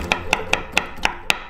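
A knife chopping food on a cutting board, six crisp, evenly spaced thuds in quick rhythm, close and clear, with no talk.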